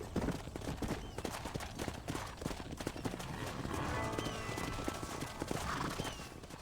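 Horse hooves clip-clop at a steady trotting rhythm in the Red Dead Redemption video game, moderately close, with a faint whinny and low ambient game sounds beneath.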